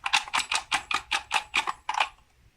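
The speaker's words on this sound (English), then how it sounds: "and your charms inside sound like this." Small objects rattle and clatter inside a box in nine quick, evenly spaced shakes, close and crisp, then stop.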